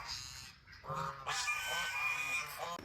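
Ducks at a resort campsite with tents in a mango orchard honk and quack in short overlapping calls, close and fairly loud, with no talk over them.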